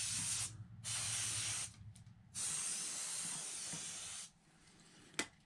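Compressed-air blasts cleaning dust out of an Alienware M15 laptop, three close, loud hissing sprays of varying length separated by short pauses, followed by a small click.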